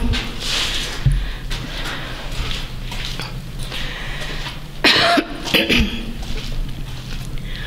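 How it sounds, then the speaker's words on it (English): Someone recovering from bronchitis coughs several times close by, including a burst of harsh, rough coughs in the middle, with breathing and faint rustling between. "Excuse me for my coughing."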